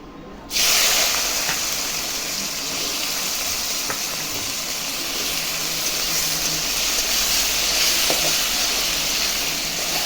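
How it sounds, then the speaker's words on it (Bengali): Onion, tomato and green chilli hitting hot oil, a sudden loud hiss that settles into a continuous close sizzle with a few faint pops, no voices. "পেঁয়াজটা, টমেটোটা, কাঁচা লঙ্কাটা একটু ভাজা ভাজা করে নিচ্ছি।"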